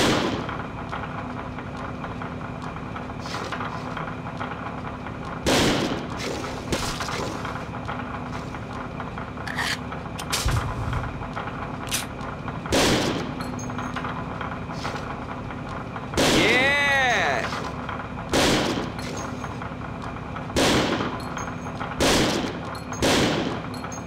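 Gunshots in the video game Second Sight: about a dozen sharp, loud bangs scattered irregularly across the stretch, single and in pairs, over a steady low background hum.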